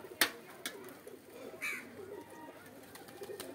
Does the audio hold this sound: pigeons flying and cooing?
yes